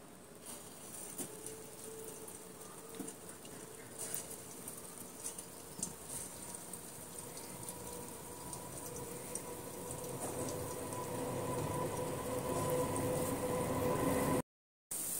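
Lentil pakoras fry in oil over a low to medium flame, giving a soft, continuous crackle and sizzle with small pops that slowly swells louder before cutting off briefly near the end.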